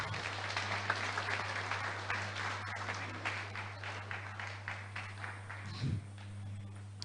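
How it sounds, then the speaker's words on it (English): Applause from a conference audience after a talk on service workers and media performance, steady clapping throughout with a low hum beneath, tapering slightly near the end. "Let's give him a round of applause."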